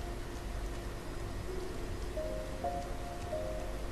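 Gentle, continuous rain patters at low volume in the video game Rain, an even wash of noise with faint sustained musical notes drifting over it.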